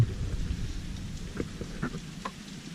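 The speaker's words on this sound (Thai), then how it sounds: "ก็ฝนตกอยู่ตอนนี้" Steady rain patters nearby amid wind on a cold day, with low rumbling and occasional sharper drops, a soft continuous wash of weather noise.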